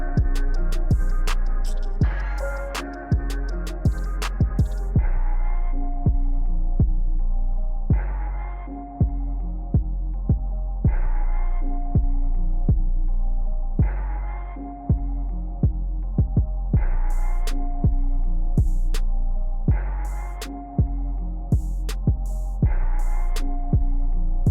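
Hair clippers with an adjustable lever blend a child's long curly hair, a steady low electric hum broken by repeated rhythmic pulses and small snips as the clipper passes through the hair.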